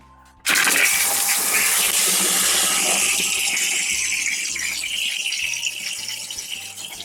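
A cast iron water pump bursts into loud operation, drawing underground water. A steady, rattling whir runs unbroken to the end.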